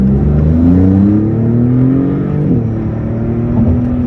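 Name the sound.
Maserati MC20 sports car engine accelerating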